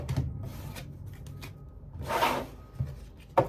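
A tarot card deck being shuffled in short bursts of papery riffling and rubbing, with one longer shuffle midway and a brief final snap, close by in a quiet room.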